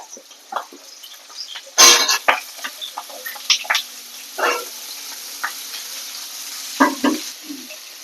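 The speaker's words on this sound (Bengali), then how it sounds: "তেলটা গরম হয়ে গেলে আমি পটলটা ছেড়ে দেবো" Pieces of pointed gourd (potol) fry in hot oil, giving scattered sizzling crackles and sharp spitting pops in short bursts over a quiet background, close by and without talk.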